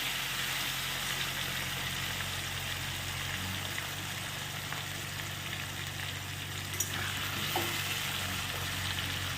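Potato pieces fry in a pan with salt and turmeric, giving a steady, soft sizzle that runs unbroken throughout, with a faint low hum beneath and an occasional light clink, and no talking.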